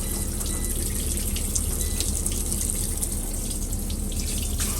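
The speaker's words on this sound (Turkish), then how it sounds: "Şimdi suyumuzu açıyoruz." Tap water pours steadily and close at hand into a basin for a maltipoo dog's first bath inside a caravan, a continuous broadband splashing rush with no pauses.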